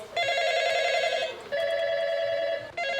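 A telephone at a quarantine hotel in Kaohsiung's Yancheng district rings in bright electronic bursts, three rings in steady succession with short gaps, loud and close.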